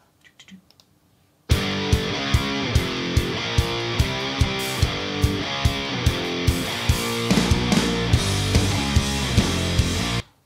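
Electric guitar plays a metal lead line with a shimmering dimension chorus and reverb tail, backed by a steady rhythmic beat with regular accented hits.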